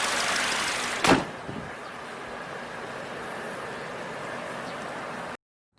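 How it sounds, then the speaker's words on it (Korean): A single heavy thud of a Genesis G80 2.5 hood slamming shut rings out close by, over a steady low engine drone that continues until it cuts off. "엔진 보닛을 열고 닫으면서 소리의 차이를 한번 느껴보시죠"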